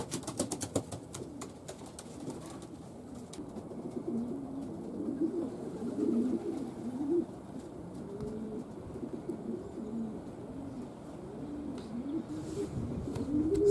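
Young pigeons cooing in a steady stream of soft, low, overlapping coos, with a few brief high chirps near the start and a faint background hiss throughout.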